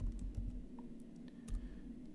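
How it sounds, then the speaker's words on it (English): Keys tapped on a computer keyboard while entering data into a spreadsheet cell, a short burst of light clicks over a low steady hum. "First, you can just start typing."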